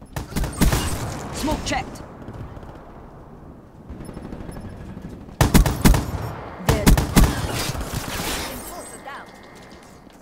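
Rapid bursts of automatic gunfire rattle out in an online shooter match, loud and close, coming in several clusters separated by quieter stretches while a voice talks over the action.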